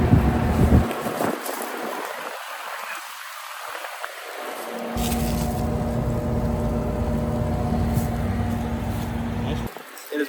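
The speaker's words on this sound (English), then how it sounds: "here you have a really old GE Executive Central Air Conditioner at a museum in Easley, South Carolina" A vintage 1983 GE Executive central air conditioner running at a museum in Easley, South Carolina: a steady broadband fan rush with a low hum joining midway, close and loud, with wind buffeting the microphone.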